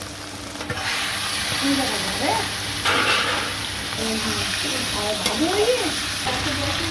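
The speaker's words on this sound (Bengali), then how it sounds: "এবার আমি এতে চিকেন দিয়ে দেবো।" Chicken pieces frying and being stirred into a spiced masala of chili powder and coriander-cumin powder, a steady close sizzle with scraping stirs and a voice speaking over it.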